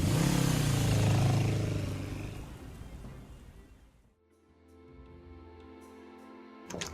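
A motorcycle engine roars loudly and then fades away over a few seconds, leaving a quieter steady hum with a brief clatter at the very end.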